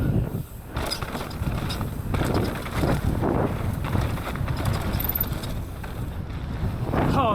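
Norco Sight C1 MX mountain bike (2024) descending a downhill trail on hero dirt, with steady rumbling tire roar, rattling and wind rush throughout, close and continuous.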